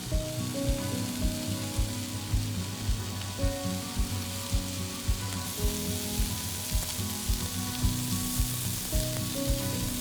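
Beef-wrapped rice rolls fry in a pan with a continuous loud sizzle and crackle, punctuated by regular soft pops and stirring taps throughout; no one speaks.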